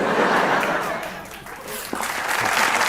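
Studio audience at a Pakistani comedy roast show applauds steadily and loudly throughout, with a few chuckles and a brief dip in the middle before the clapping swells again.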